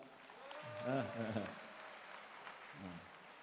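A church audience claps steadily in the background while a voice speaks over it, the applause staying soft and even throughout.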